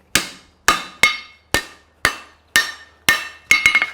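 Sharp metallic hammer strikes ring out as hot steel horseshoe is forged on an anvil, about eight evenly spaced blows with a quick flurry of lighter taps at the end.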